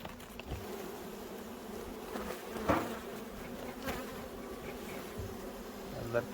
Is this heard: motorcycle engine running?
no